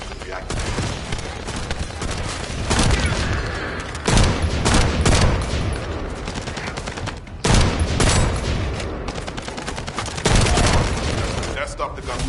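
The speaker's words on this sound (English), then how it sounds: "That stopped the gunfire" Gunfire from the video game The First Descendant, dense bursts of rapid shots and booms filling the scene, loud and continuous with surges around a few moments, mixed with game voices.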